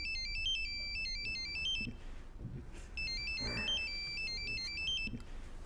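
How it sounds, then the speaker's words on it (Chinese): A telephone ringtone plays in a village home, a repeating electronic melody sounding twice with a short gap between, clear and fairly close, with faint room noise underneath. "这电话响呢"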